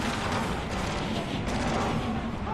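Gunfire in the shooter video game Spec Ops: The Line, a dense continuous barrage of shots and booms filling the whole short span at steady loudness, with no clear talking.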